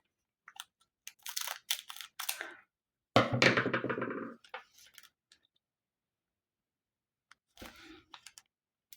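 Scissors cut through the plastic packaging of green Czech glass beads, giving a few close crunching snips and clicks in short bursts separated by quiet pauses.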